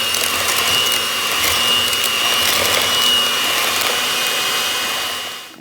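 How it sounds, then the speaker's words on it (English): An electric mixer whirs steadily and loudly as it beats butter, sugar and salt together for keto chocolate chip cookie dough, running continuously before cutting off at the end, with no talking. "I'm gonna go ahead and mix the butter and the sugar and salt"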